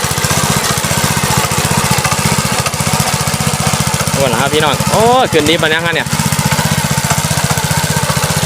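A mini tractor engine chugs loud and close with a fast steady pulsing beat while plowing a two-month-old cassava field in the evening, as someone talks over it for a few seconds midway.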